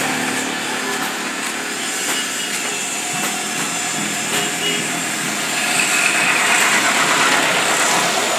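Engine of a large Jac vehicle idling in Dhaka, a steady mid-pitched rumble with constant background noise that swells slightly louder toward the end.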